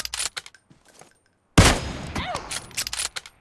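Gunfire in PUBG Mobile: sparse faint shots and clatter, then a sudden loud burst of shooting with rumbling impacts, followed by scattered further shots.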